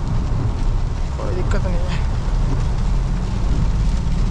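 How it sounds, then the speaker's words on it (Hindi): Heavy rain drums on a Bolero during a drive along a village road in a storm, a constant close wash of noise, and a voice speaks briefly over it. "बारिश"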